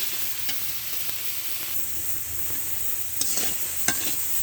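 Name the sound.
stir-frying green banana and potato in a pan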